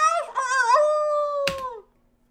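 A dog howls in a KFC-themed visual novel game, one long, clear, wavering tonal howl close up that slides downward and fades, with a short sharp click partway through.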